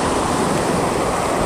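Strong, loud rushing water at Sai Yok Yai waterfall in Kanchanaburi, Thailand, a steady broadband roar with constant churning and no pauses.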